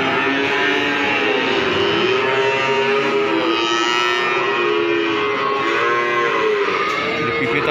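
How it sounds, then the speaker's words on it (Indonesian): PO (Ongole crossbred) cattle low loudly at the Pon Ambarawa cattle market, with long, drawn-out moos overlapping one after another close by. "Ada sapi-sapi PO."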